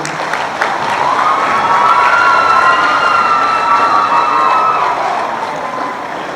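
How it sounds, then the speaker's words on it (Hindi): Audience applause welcoming a guest at a stage gathering, loud sustained clapping and cheering from a crowd that rises, holds, and tapers off gradually. "आप लोग तालियों से स्वागत कीजिए।"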